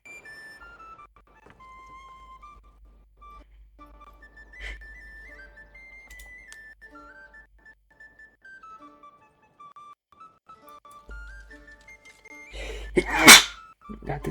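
A single sharp sneeze bursts out near the end, close and loud, after a stretch of quiet with faint whistling game tones.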